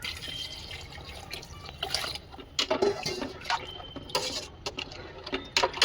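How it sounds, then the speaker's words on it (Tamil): Tamarind extract, about a large lemon's worth of tamarind dissolved in water, is poured into a pan of thoothuvalai rasam, giving close, wet splashing and trickling bursts that come and go with no talking. "இது ஒரு பெரிய எலுமிச்சைப்பழம் சைஸ் புளி கரைச்சி வச்சுருக்கேன். அந்த கரைசலை இதில் ஊற்றணும்."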